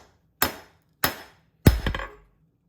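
Hot steel is hammered to draw a small taper, giving three sharp, loud metallic blows spaced about half a second apart, the last ringing out a little longer.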